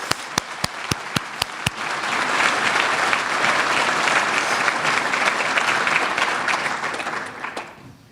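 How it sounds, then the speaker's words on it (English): A few sharp single claps ring out, then a graduation auditorium crowd swells into sustained loud applause that holds steady for several seconds before tapering off. "So I want applause for everyone in the auditorium who's helped support this."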